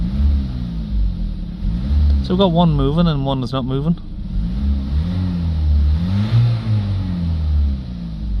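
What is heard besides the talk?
van diesel engine revving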